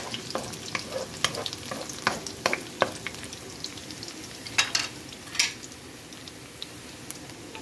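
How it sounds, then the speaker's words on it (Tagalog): Ginger and garlic sautéing in a pan for milkfish sinigang, a steady crackling sizzle with scattered sharp spatula clicks and scrapes, close and moderately loud with no talk. "Pag ako guys magigisa, pinagsasama ko na yan, yung luya at saka bawang"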